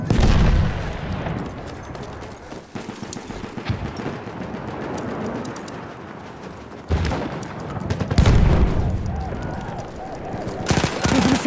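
Gunfire in Battlefield 1 during an assault on Fao Fortress, with bursts of automatic fire and booms inside a dense, noisy battle mix, loud and close, with occasional shouted voices.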